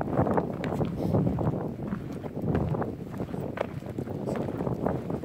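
Continuous wind buffets the microphone on the high plateau of Malzéville on a cool July day, a loud, unbroken rumbling roar with gusty fluctuations and no voices.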